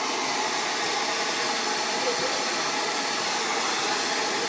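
A hair dryer blows continuously and steadily on wet hair as a close, even rush of air, unchanging throughout.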